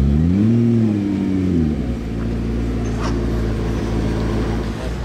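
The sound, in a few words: hypercar engines revving in Monaco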